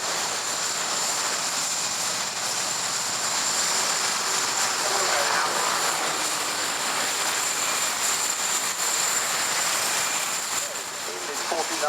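A Hawker Hurricane flies at the Cosford Airshow, its engine a steady broad roaring rush throughout, moderately distant and continuous, with an announcer speaking over the noise.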